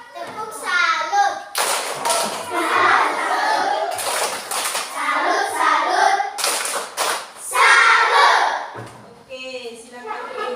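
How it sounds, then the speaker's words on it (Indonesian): Children in a primary school classroom perform the Indonesian tepuk salut clap chant, with bursts of rhythmic group clapping and chanting voices alternating with a teacher's talk. "Tepuk salut."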